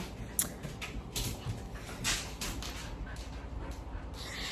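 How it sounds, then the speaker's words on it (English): Faint puppy whimpers and yips come in short bursts amid scuffling as puppies fight, off in the background at low volume. "my puppies are fighting"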